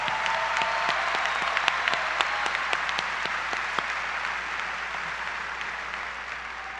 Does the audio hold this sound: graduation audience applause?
yes